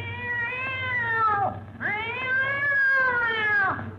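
A cat yowls twice in a radio sound effect for a stepped-on tail, each long, loud, wavering caterwaul sliding downward at the end, alone over a low steady hum.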